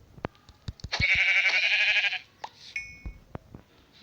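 A goat in the Minecraft video game gives one long, wavering bleat, preceded and followed by sharp clicks and taps, with a few short tonal blips afterward.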